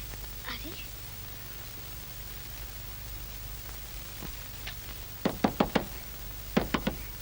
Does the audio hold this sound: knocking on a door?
yes